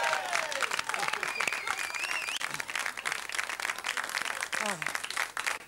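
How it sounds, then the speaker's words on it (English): A studio audience applauds on a 1995 talk show, clapping steadily under a mix of chatter, laughter and a few brief whistling tones, with voices talking over the applause. "Give a nice round of applause."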